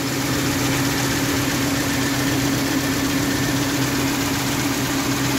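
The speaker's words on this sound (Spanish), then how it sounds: "El motor suena más estable que el anterior que andaba." A 2002 Chevrolet Tracker with a freshly swapped J20 engine idles steadily, a continuous low hum with an even mechanical drone and no voices.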